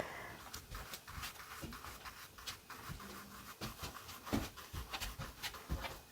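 Dogs pad around nearby in a quiet room, panting softly with scattered claw clicks and scratches on the floor, faint and close.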